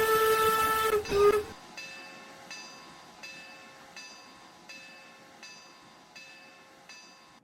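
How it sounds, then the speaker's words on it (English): A locomotive passes a railroad crossing near Cherry Crest Adventure Farm, with a loud opening burst followed by a steady, evenly spaced series of ringing, bell-like strikes that fade slightly over several seconds, with no talking. "Yet again, the locomotive crosses a railroad crossing near the Cherry Crest Adventure Farm."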